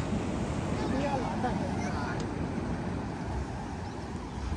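Sea waves rolling onto the shore at Diu, Gujarat, a steady broadband wash heard up close and mixed with wind buffeting the microphone, with no distinct individual breakers standing out.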